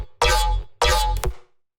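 A Serum synth "yoink" patch plays two loud bursts, each a gritty, buzzy hit with deep bass that cuts off sharply, the second ending with a quick stutter before silence.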